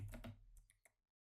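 Typing on a fancy computer keyboard: a quick, close burst of several key clicks that trails off into silence, with no talking.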